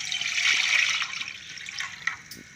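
Water splashes and pours steadily into a pot on a stove, close by, tapering off into a few drips and small knocks.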